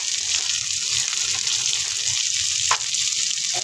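Garlic frying in a pan with pork giniling and spinach, a steady close hiss of sizzling oil with a brief sharp crackle near the end, no voices.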